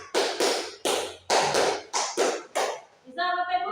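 A group claps together in a 'tepuk 5' clap exercise at a school gathering, sharp rhythmic bursts of hand clapping in quick sets, ending as a voice begins speaking.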